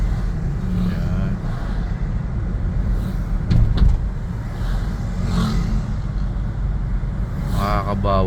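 Heavy road traffic with trucks and buses rumbling past below a flyover, a steady loud low roar with passing swells and a brief louder rush midway.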